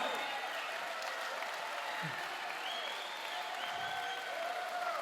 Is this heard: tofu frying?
no